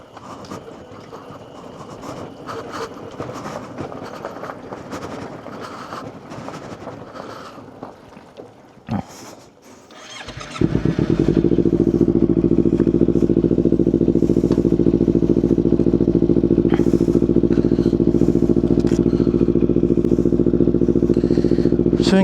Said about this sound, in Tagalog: dito tayo magpapaanda ang motor.